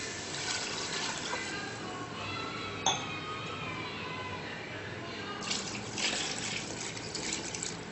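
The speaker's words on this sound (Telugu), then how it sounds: "4 గ్లాసెస్ వాటర్ యాడ్ చేస్తున్నాను." Continuous splashing rush of four glasses of water pouring steadily into a metal cooking pot, with a single faint clink partway through and a slight surge near the end.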